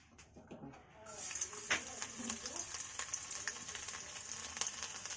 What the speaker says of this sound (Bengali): ওই তেলেই প্রথমে হচ্ছে রসুন কুচি দেবে